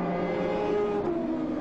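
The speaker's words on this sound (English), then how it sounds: "Beautiful sounding car, that BMW" A BMW race car engine at the 1999 Le Mans 24 Hours screams at high revs with a sustained tonal whine that shifts slightly in pitch, loud and alone.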